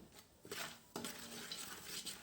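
A spoon stirs spices, turmeric and chutney in a pan for a puffed rice chivda, giving a few soft scraping, clinking strokes against the metal, fairly quiet and close, with no talking.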